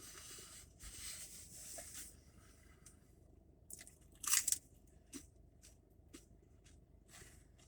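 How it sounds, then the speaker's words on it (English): Crunchy bites into hard Taco Bell taco shells, close and faint, with scattered crackles and one louder crunching burst amid quiet chewing. "I like crunching into the shell."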